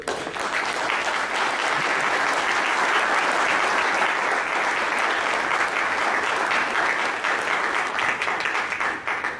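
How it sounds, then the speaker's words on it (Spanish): Steady, dense applause from an audience at an international congress panel discussion, loud and continuous for the whole stretch with no pause and no voices over it. "nuevamente un aplauso para ellos"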